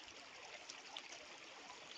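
A forest stream flows in a faint, steady, distant trickle and babble, with no one talking.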